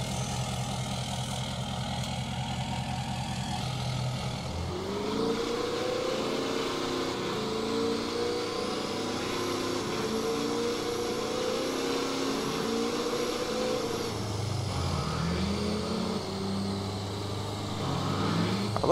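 In the video game Spintires: MudRunner, a truck's heavy engine idles with a low, steady drone, then revs up into a rising, harmonic whine and settles back down, with no talking.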